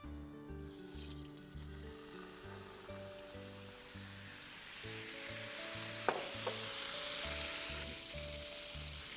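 Water goes into hot oil tempered with mustard seeds, asafoetida and turmeric, giving a steady sizzle and frying hiss that swells partway through and runs over background music, with no talk.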